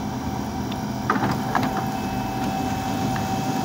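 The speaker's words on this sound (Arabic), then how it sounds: "وده صوت الطباعه بتاعتنا" A Canon i-SENSYS MF3010 laser printer prints a page, giving a steady mechanical whir with a few soft clicks and clunks from the paper feed, close and continuous throughout.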